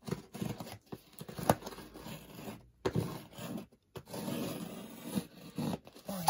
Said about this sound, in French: Je vais essayer d'ouvrir avec les ciseaux.